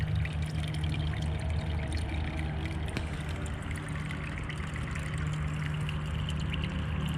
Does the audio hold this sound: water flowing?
yes